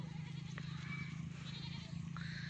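Goats bleating at a rural rice-harvest site in La Union, several short calls heard over a steady low background hum, with no talk.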